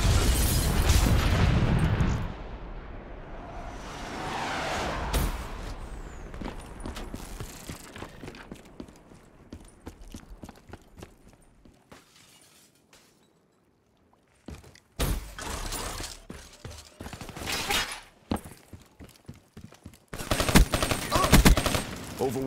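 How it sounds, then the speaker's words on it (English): Call of Duty Black Ops 3 multiplayer on the Evac map: lightning strike killstreak blasts and gunfire crackle in loud bursts, fading into quieter stretches before more explosive volleys near the end. "Hostile lightning strike inbound."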